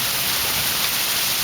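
Monsoon rain falling on deodar trees at about 4,000 feet in Morni, a dense, steady hiss of heavy rainfall, close and continuous, with no voices.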